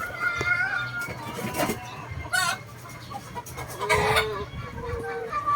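A Bone Crusher hatch gamefowl rooster clucks in short bursts close by, with a voice talking between the calls and faint background noise.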